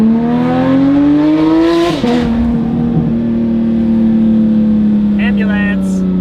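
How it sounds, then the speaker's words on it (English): A Porsche 992 GT3 RS with a titanium race exhaust and free-flow headers revs its flat-six loud and close. The tone climbs steadily, dips briefly, then holds a high, sustained wail. "Give this car a little bit of space here, but listen to how exotic this sound is"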